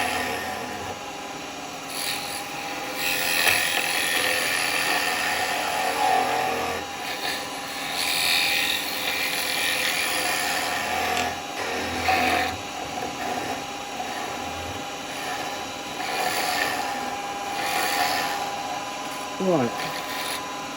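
Spindle gouge cutting a small wooden pot spinning on a lathe, a rough scraping and rasping in repeated passes over a steady motor hum.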